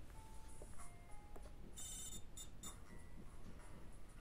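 A mobile phone rings faintly in the video game Metropolis Crimes, short electronic tones over a quiet, noisy background, with a brighter burst of ringing near the middle.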